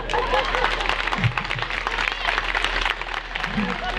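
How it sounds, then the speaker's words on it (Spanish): Applause at a village brotherhood festival in Souto, Ribas de Sil, clapping for Manuela, mixed with crowd chatter and voices over a steady low hum, fairly dense and continuous. "pido un aplauso ahí por Manuela"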